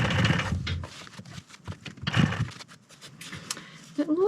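Bursts of a sewing machine stitching the sides of a fur bomber hat, short runs separated by pauses and handling noise, close by with a brief voice near the end.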